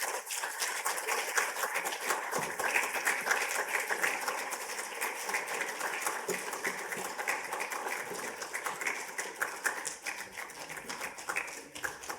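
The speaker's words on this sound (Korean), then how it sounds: "큰 박수로 우리 축하하고 환영하겠습니다" A church congregation applauds at a Sunday service, a steady, sustained wash of many hands clapping that fills the room for several seconds at moderate volume.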